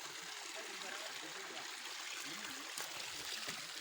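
Warm spring water pours down from above in a steady, soft rushing trickle, faint and continuous, with a small splash near the end.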